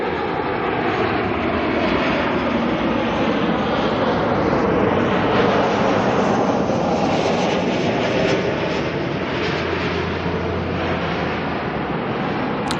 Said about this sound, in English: Next arrival, ASL Freighter, 737-8 Freighter, coming in from Christchurch.